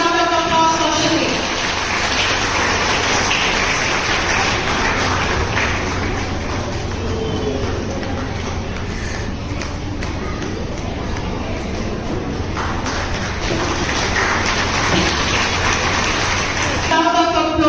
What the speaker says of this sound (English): A big round of applause for Shiti